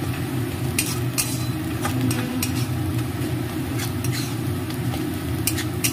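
Amla (Indian gooseberry) being stirred in a hot pan, a steady close sizzle and frying hiss with occasional scrapes and clicks of the utensil against the pan, continuous with no talking.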